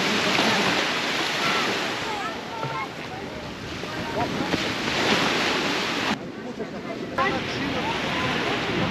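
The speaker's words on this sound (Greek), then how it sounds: "Πολύ ωραία η θάλασσα." Sea surf rolls onto a beach on Lesbos in a continuous broadband wash with heavy wind buffeting the microphone, loud and close throughout.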